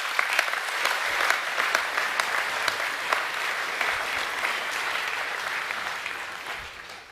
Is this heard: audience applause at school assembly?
yes